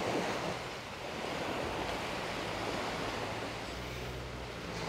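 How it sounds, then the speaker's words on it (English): Small waves lap and wash steadily onto the beach at Porters, St James, Barbados, making a continuous soft surf with gentle wind and no voices. "Listen to the waves lapping."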